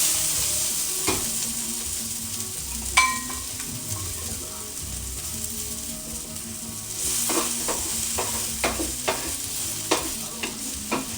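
Onions and peppers frying over a fire for Haitian paella, a steady broadband sizzle with scattered sharp clinks and scrapes of a utensil stirring the pan, close and continuous with no talk.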